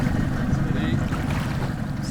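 A boat's engine runs as a steady low rumble, loud and continuous, mixed with wind and water noise on open water.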